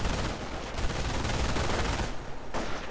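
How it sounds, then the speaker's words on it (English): Sustained MG42 machine-gun fire in a World War II strategy game, a dense, continuous rattle of rapid shots that stays loud and steady throughout, with no talking. "Riflemen quickly running away in the face of this awesome MG show of force"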